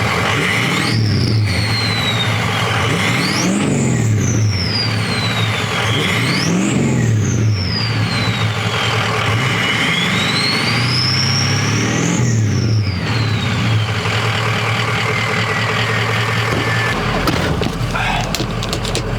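A Ford 6.0L Powerstroke diesel truck engine with performance injectors runs steadily and loudly up close, revving up several times with rising and falling pitch before settling, no talking.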